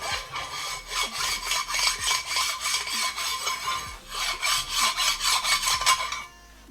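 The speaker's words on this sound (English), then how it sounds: "Take a file here and just go over it real quick." A hand file scrapes in steady back-and-forth strokes across a cylinder head surface from a small block Ford being rebuilt, a rhythmic rasping run of about a dozen close, loud passes that stops abruptly near the end.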